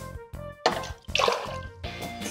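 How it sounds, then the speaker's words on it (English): Hydrogen peroxide poured from a container into a glass, a short liquid splash and trickle heard in a few close bursts against a quiet room. "we need to pour half a cup of hydrogen peroxide into this glass"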